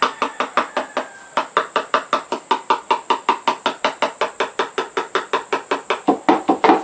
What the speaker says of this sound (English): So I'll knock it with the pliers or the wire snippers.